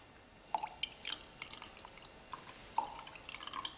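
Oil poured into a glass of coloured water in a simple kitchen science demonstration, giving a quiet run of small drips and splashes, scattered soft liquid plinks over a hushed background.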